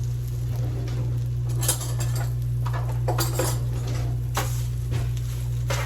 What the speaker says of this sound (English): So we're just gonna give them a little stir. And I'm just gonna actually poke them with a fork too